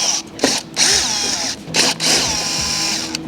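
A power drill with a T27 bit removes fasteners during a door safety system install, several short loud whirring bursts with brief gaps between them, close up and without talk.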